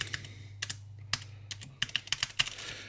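Typing on a mechanical keyboard fitted with DSA profile keycaps, a quick irregular series of crisp clacks up close over a low steady hum.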